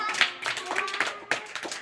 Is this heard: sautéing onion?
no